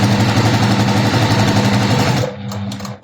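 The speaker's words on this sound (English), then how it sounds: "So let's just stitch down this" Sewing machine stitching a quilt seam, a loud, steady rapid mechanical whirr and rattle running continuously for a few seconds before stopping abruptly.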